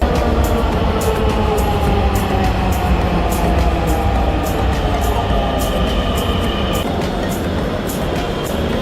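A Dhaka metro rail train at a station platform with waiting passengers, a loud continuous rumble and hum with rhythmic high ticking throughout, steady and close.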